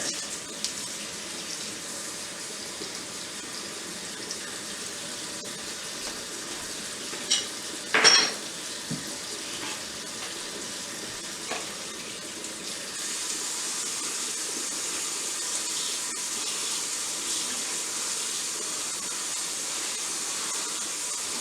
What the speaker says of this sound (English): I'm just going to cover these collards with the water.